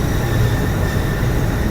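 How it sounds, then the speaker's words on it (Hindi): A steady, loud rumble comes from the Shah Latif Express train as it stops at Meeting railway station, a dense low drone running unbroken through the brief moment. "शेड्यूल्ड स्टॉप नहीं है लेकिन यहाँ भी रुक गई है गाड़ी"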